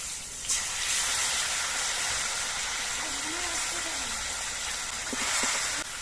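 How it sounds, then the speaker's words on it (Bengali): Potatoes fry in a pan with turmeric and chili paste, a steady loud sizzle and hiss that fills the whole stretch, with a few light utensil taps near the end. "এবার মশলা দিয়ে আলু দিয়ে বেশ কিছুক্ষণ কষিয়ে নিতে হবে"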